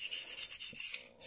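Knife blade stroked by hand across a whetstone to raise a burr, a close, steady hissing scrape in quick back-and-forth passes with no voices.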